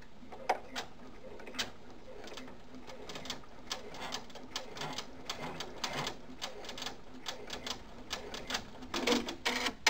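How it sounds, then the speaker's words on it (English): A sewing machine runs a tack-down stitch through fabric for a stuffed Rudolph toy, giving quick, fairly faint clattering bursts of needle strokes that repeat in uneven runs, with a few louder taps near the end. "we're going to have it run our tack down stitch."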